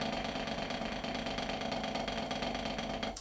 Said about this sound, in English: So playing on the pad, a buzz roll would sound like this.